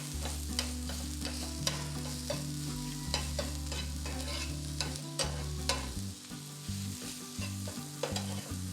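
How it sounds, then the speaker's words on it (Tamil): Spinach sautéing for an omelette, a steady pan sizzle with repeated scraping stirs over a persistent low background hum, no talking. "முதல்ல கீரையை நல்லா வதக்கிடலாம் நம்ம"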